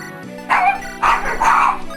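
A pet dog barks three times in short, evenly spaced bursts, close and loud, in a quiet indoor setting.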